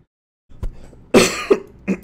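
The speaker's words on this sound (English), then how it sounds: "Pardon my cough, guys." A single man coughs close to the mic, with a short throat sound before it, a sharp main cough and a smaller follow-up hack, otherwise silence.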